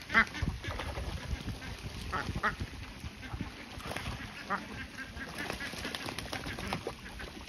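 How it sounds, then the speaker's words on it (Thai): Khaki Campbell laying ducks splash and play in a small pond, giving repeated quacks near and far over a steady background of water and activity, with no talking. "สำหรับการปล่อยเลี้ยงเป็ดลงน้ำก็ทำให้เป็ดเขามีสุขภาพอารมณ์ดีไม่เครียดนะคะ"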